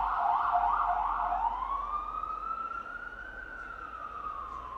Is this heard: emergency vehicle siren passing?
yes